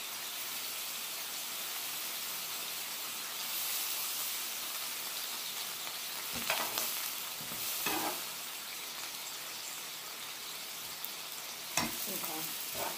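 Ribeye steak searing on a hibachi-style griddle gives a steady, dense sizzle and hiss throughout, with a few scraping and tapping sounds from the cooking.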